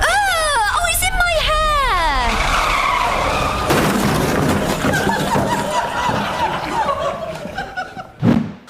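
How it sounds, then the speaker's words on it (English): A car skids off the road and crashes into the verge, a long tyre screech followed by a jolting impact, while people shout and laugh over it and a voice talks near the end. "I crashed into the verge."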